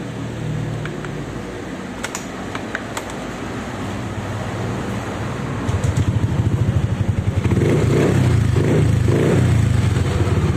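Yamaha Aerox scooter after a fuel line hose repair, cranking with a rapid rhythmic whirr and then catching around midway into a loud, steady, close engine idle with pulsing beats, no talking.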